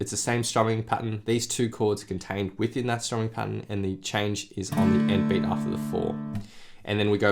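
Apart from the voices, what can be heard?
No everyday noise stands out behind the speech.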